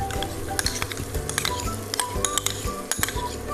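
Yogurt is stirred into a spicy tawa chicken masala on a pan over low flame, with repeated metal spoon clinks and scrapes against the pan under a soft sizzle, steady and close.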